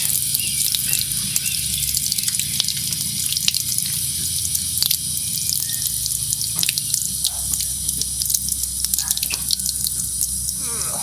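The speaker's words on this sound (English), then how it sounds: "Washing the squash." Water runs steadily from a tap while squash is washed outdoors, a constant close splashing stream with light drips, and a voice speaks briefly over it.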